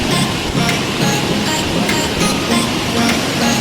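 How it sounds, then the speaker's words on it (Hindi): The Malangir waterfall near Kirandul, Dantewada in Chhattisgarh, heard as a steady, loud broadband rush of falling water that fills the whole moment without pause or talk. "ऐसा झरना आपने कहीं नहीं देखा होगा"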